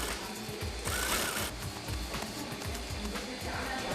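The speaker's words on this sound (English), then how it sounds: "They use a nylon thread to attach the pouches to the coat." A sewing machine stitches pouches onto a down coat with nylon thread, a fast, even mechanical chatter that runs without a break at moderate volume, with a clattering, rhythmic pulse.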